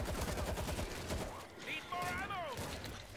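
Gunfire from the World War Z zombie shooter game plays through a rapid burst of shots at the start, with excited talk over it and a brief whistling sweep near the middle.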